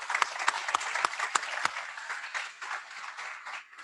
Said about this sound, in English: A round of applause for the ambassadors.